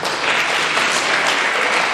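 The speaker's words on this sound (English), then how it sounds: "I want you to give a nice round of applause to Noah Burroughs." Audience giving a guest speaker a round of applause: loud, dense, continuous clapping that fills the whole short stretch.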